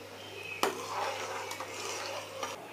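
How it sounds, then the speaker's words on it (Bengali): A spoon stirs rice for payesh in a pot, scraping softly against the metal with a few sharper knocks and a faint simmering bubble underneath, no voices. "যতক্ষণ না পর্যন্ত পায়েসের চালটা সেদ্ধ হয় ততক্ষণ পর্যন্ত ভালো করে নেড়ে যেতে হবে"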